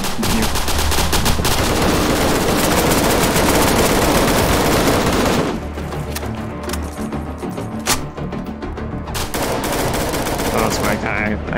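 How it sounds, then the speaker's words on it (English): Dense, sustained automatic gunfire and overlapping shots fill a BlackSite Zeta firefight, loud and continuous, then thin briefly before bursts resume at a slightly lower level. "I'm just waiting for the gunfire to stop before I can continue"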